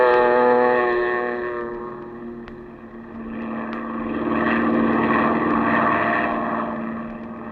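A seaplane skims across a bay as a radio drama effect: a steady droning engine with a heavy hum of harmonics that dips briefly and then surges back, joined by rushing water and wind noise.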